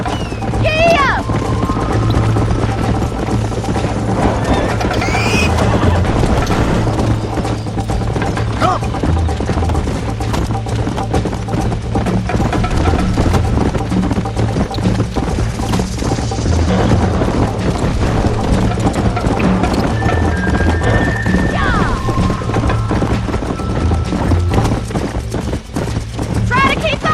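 Horses gallop in Red Dead Redemption, rapid continuous hoofbeats clattering close and loud throughout, with voices speaking over the running and an occasional whinny.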